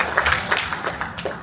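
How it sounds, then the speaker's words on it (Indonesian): Audience applause for the panelists and moderator at the end of a panel discussion during a circular economy and life-cycle assessment training, a steady, moderately loud burst of clapping lasting throughout. "sekali lagi tepuk tangan untuk para panelis dan juga moderator"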